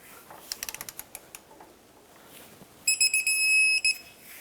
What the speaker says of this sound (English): I have a wrench, 22mm, on the head of the bolt.